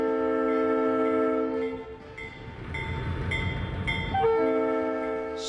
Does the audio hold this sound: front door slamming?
no